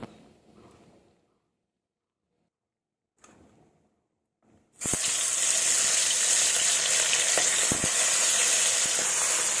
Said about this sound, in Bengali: তেল গরম হয়ে গেছে, এবার মাছটাকে ছেড়ে দেব।